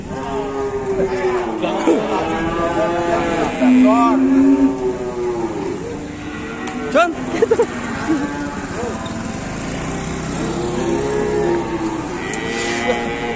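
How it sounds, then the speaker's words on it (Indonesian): Raging, frightened cattle moo loudly and repeatedly in overlapping drawn-out bellows close by, with engine noise underneath and people talking between the calls. "Keras banget guys sapinya"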